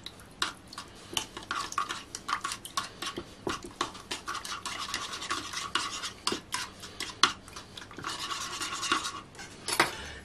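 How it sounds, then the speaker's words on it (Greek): Metal spoon scraping and clinking against a bowl while water, sugar and yeast are stirred together, a steady run of quick close taps and scrapes with no talking. "θα ανακατέψουμε να λιώσουμε τη μαγιά μας"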